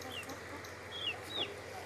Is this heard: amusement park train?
no